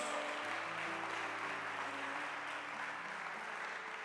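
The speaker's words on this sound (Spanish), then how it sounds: "Si ese aplauso era para Jesús." Congregation at a church service applauds in a steady, even wash of clapping that holds for several seconds, fairly quiet and distant, with sustained organ-like tones beneath.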